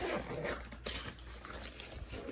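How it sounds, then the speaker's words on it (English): A zipper on a teeth whitening kit case is pulled all the way open in one loud, continuous, close rasp that runs steadily from start to finish. "So it opens like this. Zip it all the way."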